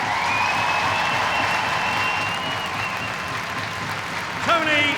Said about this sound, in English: Members of the Yorkshire Regiment being welcomed out onto the ice by what is an excellent Saturday night crowd